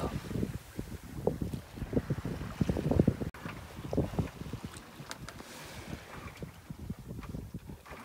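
A sailboat under full sail between Corsica and Sardinia, moving gently at about four and a half knots, with a steady rush of wind and water, irregular thumps and slaps against the hull, and some buffeting on the microphone.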